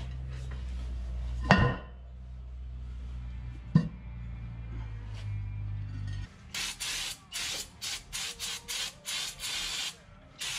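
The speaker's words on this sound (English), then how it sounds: "scrape all this dirt out of here" A metal punch scrapes caked dirt out of a Big Tex trailer part in a series of short, rough scratching strokes, close up. A low hum and a couple of sharp knocks come before the scraping.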